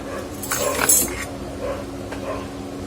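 A metal lid lifted off a pot of drumstick amti with a short clatter and clink, close and brief, followed by faint light tapping in a quiet kitchen.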